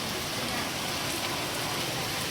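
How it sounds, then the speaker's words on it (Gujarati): Steady rain comes down in a dense, even hiss of drops hitting surfaces outdoors, with no break across the whole stretch and no voices. "વરસાદ ચાલુ થઈ ગયો."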